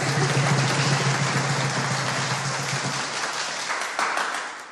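Studio audience applause on a Turkish comedy set, a broad steady wash of clapping that holds loud and then eases slightly toward the end, with no talk over it.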